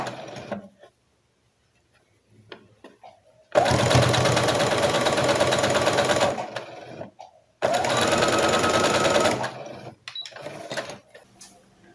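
A sewing machine stitches a doll's dress in two sustained bursts of rapid, even mechanical whirring, loud and close, separated by a short pause, with faint handling noises before and after.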